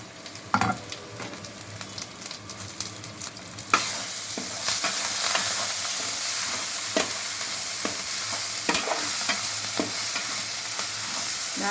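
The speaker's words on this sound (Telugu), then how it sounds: "బాగా ఫ్రై అయిపోయిన మసాలా." Tomato pieces and masala frying in oil for a Telugu raw fish curry, a steady loud sizzle that jumps up sharply partway through, with occasional scrapes and stirs of a spoon.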